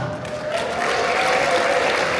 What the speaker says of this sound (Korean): 여러분들 뜨거운 박수 부탁드리겠습니다